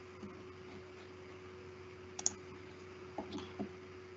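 Faint, sparse computer mouse clicks, two or three short ticks spread over a quiet, steady room hum, with no speech.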